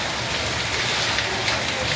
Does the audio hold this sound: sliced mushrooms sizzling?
no